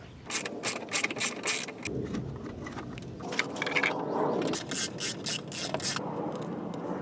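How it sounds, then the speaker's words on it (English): A ratchet with a 10mm socket works loose the bolts holding a car's bumper panel, giving bursts of rapid clicking close to the microphone that pause and restart several times. "Remove the bolts with a 10mm socket."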